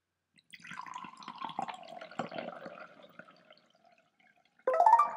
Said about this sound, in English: What I'm going to do now is pour in some red colored water